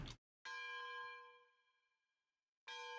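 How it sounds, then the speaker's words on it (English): A locomotive bell rings in the video game Railroads Online, a short clang followed by a bright, ringing strike that slowly fades, then another strike at the end, clear and fairly close with no talking. "Not sure why the bell rings randomly."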